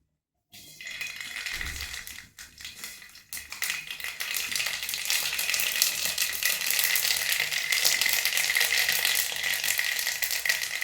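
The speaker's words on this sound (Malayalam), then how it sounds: "ഇനി എണ്ണയ്ക്കകത്തേക്ക് നമുക്ക് കുറച്ച് കടുക് ഇടണം." Mustard seeds drop into hot oil in a pan while cooking pork olathu curry, setting off a dense, close crackle and popping that swells after a brief rattle and keeps going to the end.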